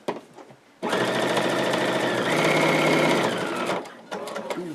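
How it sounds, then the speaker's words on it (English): A sewing machine runs at steady speed over a folded strap on a market tote bag, a close, loud continuous whir lasting about three seconds before it stops and starts again briefly. "You're going to sew right over the top of that fold"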